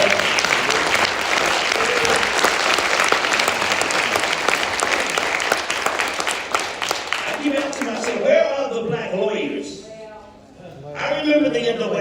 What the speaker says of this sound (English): I think we should give him a big round of applause